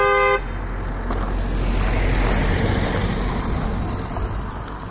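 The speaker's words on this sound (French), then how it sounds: "ils ont klaxonné" A short car horn toot sounds at the start, then steady road and engine noise rumbles on as traffic passes.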